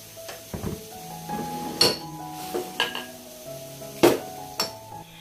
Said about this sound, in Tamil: கூடவே ஒரு மீடியம் சைஸ் வெங்காயம், ஒரு கொத்து கருவேப்பிலை சேர்த்து வதக்கிக்கொள்கிறேன்